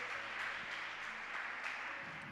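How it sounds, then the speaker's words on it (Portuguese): Congregation applauding loudly in a church during a Portuguese-language revival service, a steady dense wash of clapping with no voices over it. "Você pode dar um aplauso ao Senhor bem forte."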